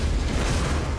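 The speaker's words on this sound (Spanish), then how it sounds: "La energía de esa erupción fue tan inmensa que tuvieron lugar grandes explosiones" A volcanic eruption in a documentary sounds as a loud, continuous, deep roaring blast, a heavy low rumble with broad noise filling the whole short moment, with no voice over it.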